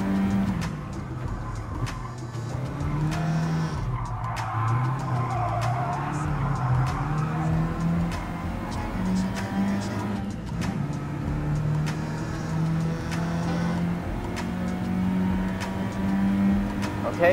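Race car in Gran Turismo Sport at a French event, with a steady engine drone and tires skidding through corners, continuous and mid-level, as someone talks quietly over it.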